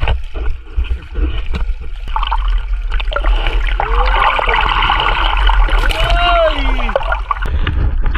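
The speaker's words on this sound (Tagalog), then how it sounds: "Tapos na tayo magtampisaw dito sa ilog." Water splashes and swirls as people wade in a river at Morong, Bataan, a continuous close wash of sloshing and trickling with voices talking and calling over it.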